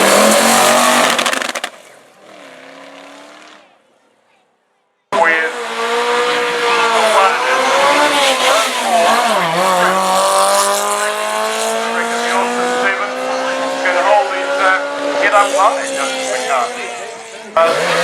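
Race cars, among them a pre-1965 Mini Minor in the 1001 to 1300cc class, launch and accelerate hard at a street sprint, engine notes rising through the gears with tire noise, loud and close after a short quiet gap, with commentary over the top.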